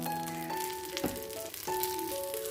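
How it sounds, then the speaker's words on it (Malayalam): Sunflower oil sizzles on a dosa in a hot pan, a soft steady crackle running beneath sustained tonal sounds, with a brief clatter around the middle. "ഞാനിപ്പോൾ സൺഫ്ലവർ ഓയിലാണ് ഒഴിച്ച് കൊടുക്കുന്നത് കേട്ടോ"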